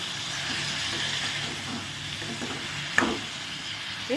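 Tomatoes sizzle and fry in a pan for a tomato chutney, a steady close hiss with occasional spoon scrapes and a sharper clack near the end.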